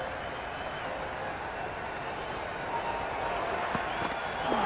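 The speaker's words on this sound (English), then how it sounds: "It's evident and ever so audible that the crowd is at near bursting point at today's play." A dense crowd of cricket spectators in the Cricket 26 video game keeps up a steady, broadband roar throughout, with scattered claps and murmurs swelling slightly toward the end.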